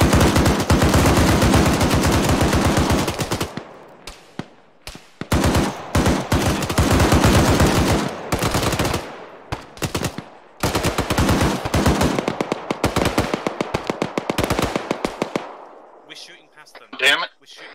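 Gunfire in a combat scene: loud, close bursts of rapid machine gun fire and sharp single shots come in repeated volleys with short gaps between them, and a faint voice is heard near the end.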